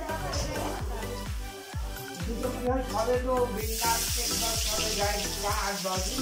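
Onions frying in hot oil in a pan, a steady dense sizzle running throughout with clinks of a utensil stirring, close and fairly loud.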